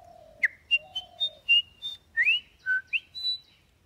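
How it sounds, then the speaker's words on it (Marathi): A white-browed fantail gives a long series of clear, rising and falling whistled notes, about a dozen short phrases in steady succession, close and distinct over a quiet forest background. "इथे आता नाचरा नावाचा पक्षी दिसतोय, तो एक लांबलचक शिळ घालतो."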